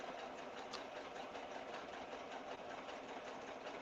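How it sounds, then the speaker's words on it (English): A sewing machine runs steadily, a fast even mechanical whir that holds throughout at a moderate, close level with no talk. "Are you sewing?"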